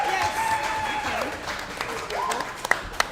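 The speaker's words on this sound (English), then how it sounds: "Can we clap it up for my brothers and sister?" Brief scattered clapping from a small crowd at a softball team gathering, rising under a voice speaking throughout, with a couple of sharp claps standing out near the end.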